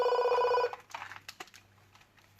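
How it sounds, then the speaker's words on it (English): A telephone rings in a fitness studio, a loud electronic ringing for about the first 0.7 seconds, then stops, leaving faint room noise and a low hum with scattered small knocks. "Bear with me, that's the phone."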